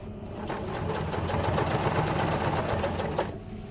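A sewing machine runs a short burst of basic stitching, sewing forward and then reversing to lock the stitches, its rapid mechanical chatter steady and close for a few seconds before stopping.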